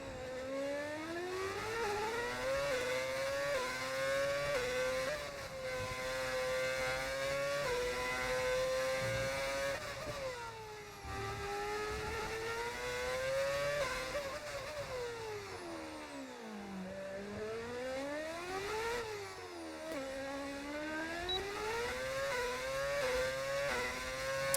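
Brawn F1 car in a racing video game at Monaco, its V8 engine screaming loudly and continuously, pitch climbing through upshifts and dropping sharply under braking for corners, with no talk over it.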